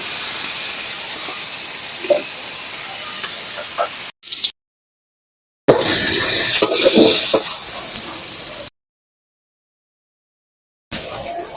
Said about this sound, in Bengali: নুন দিয়ে মাছ ভাজলাম